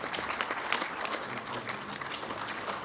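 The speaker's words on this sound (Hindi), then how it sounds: "तालियों के साथ स्वागत करें मंत्री महोदय" An audience applauds steadily throughout, welcoming Union Minister Anurag Thakur at the inauguration of a virtual photo exhibition, with dense, sustained clapping from a large crowd.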